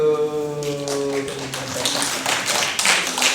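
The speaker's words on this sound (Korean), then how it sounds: "박수" A congregation claps at a Korean church's Children's Sunday service, a dense patter of hands that begins over sustained, tuneful music and continues steadily, fairly close.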